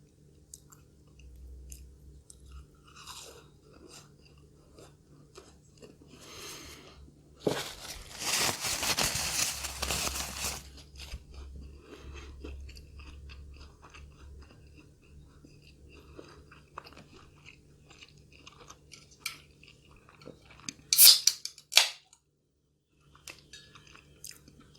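Crunchy chewing of fried food such as crispy crab nuggets and fried noodles, a burst of loud close crunching midway followed by sharp brief bites later, with quiet pauses and light talk.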